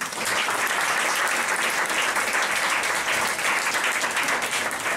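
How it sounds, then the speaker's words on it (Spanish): Dense, steady audience applause at a small concert, loud and continuous throughout with no voices over it. "Fuerte el aplauso."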